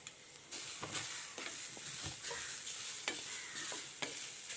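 Small shallots and toor dal fry in a pan with coconut, a quiet continuous sizzle marked by scattered light spatters and the scrape of stirring.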